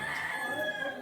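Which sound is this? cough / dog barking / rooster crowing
rooster crowing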